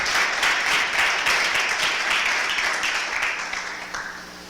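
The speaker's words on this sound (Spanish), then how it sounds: "Dale una prenda de palmas a Cristo" Church congregation applauding together for several seconds, a dense steady wash of clapping that slowly thins and fades toward the end.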